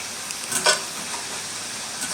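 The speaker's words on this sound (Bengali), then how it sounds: "এবার আমাদের মাংসটা কিন্তু ভাজা হয়ে গিয়েছে" Duck meat frying in a pan gives a steady, soft sizzling hiss throughout, with one brief scrape of stirring near the middle and no voices.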